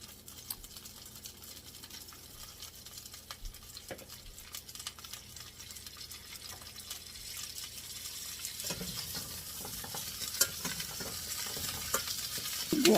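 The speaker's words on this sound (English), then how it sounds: "Put in my meatballs." Pre-cooked meatballs dropped into a pan on the stove give a steady, soft sizzle and frying hiss with occasional stirring scrapes, growing a little louder and busier toward the end; no talking.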